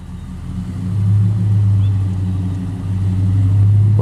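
A custom 1956 Chevrolet half-ton pickup with an LS1 V8 and 4L60E transmission idles quietly while turning around outdoors, giving a steady low rumble that swells slightly, with someone speaking over it.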